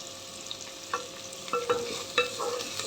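Ginger paste is stirred into a simmering gravy with pepper in a pan for a cauliflower curry. There is a soft, continuous sizzle, with several light scraping strokes of the spoon close by.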